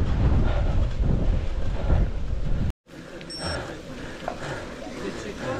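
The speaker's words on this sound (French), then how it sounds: "le vent est toujours là, hélas" Wind buffets the microphone during a mountain bike ride on a 40 km course, a loud, continuous low rumble that drops out briefly and then returns, with faint rattles and clicks beneath.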